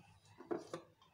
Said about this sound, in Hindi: और हम कुकर बंद कर देंगे।